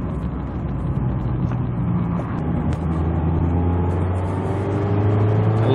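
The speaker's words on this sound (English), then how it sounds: "Listen to that engine. Induction noise, exhaust noise, 5000 RPM." A Mazda MX-5 Miata (Kizuna edition) engine revs to around 5000 RPM, with steady induction roar and exhaust drone building under a rising tone; close, loud and continuous from inside the car, no talking.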